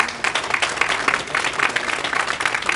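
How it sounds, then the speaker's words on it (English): A luncheon audience at a gang prevention event breaks into loud, dense applause, many hands clapping close together in a steady, unbroken wash. "So give them a round of applause."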